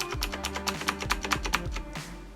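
Fast, crisp keystrokes clatter on a loud Razer BlackWidow Chroma mechanical keyboard, a dense burst of clicky strikes about a dozen in two seconds, close and clear with no voices.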